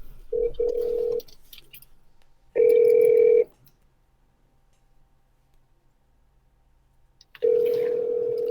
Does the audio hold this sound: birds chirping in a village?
no